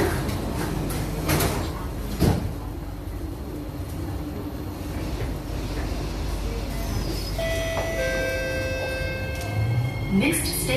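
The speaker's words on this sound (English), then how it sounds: "doors are closing." Sliding doors close on a Singapore metro train, with a soft thud followed by a series of steady electronic warning tones over constant station and carriage rumble and background voices.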